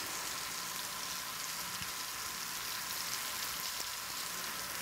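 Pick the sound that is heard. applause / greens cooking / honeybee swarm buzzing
greens cooking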